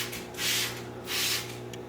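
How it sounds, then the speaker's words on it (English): F10 concentrated cleaner mixed with water is sprayed inside a new reptile enclosure for a Brazilian rainbow boa, giving two short, soft hissing bursts from a spray bottle against a quiet room background. "So we'll just spray it out."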